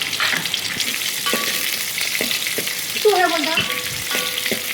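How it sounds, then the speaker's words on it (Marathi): Chopped onion frying in a pan until golden brown, a steady close sizzle with occasional stirring scrapes and clinks throughout. "आता आम्ही याच्यामध्ये आपण कांदा टाकला आहे तो जरा हलका परतून घ्यायचा आपण थोडासा गोल्डन ब्राऊन होईपर्यंत"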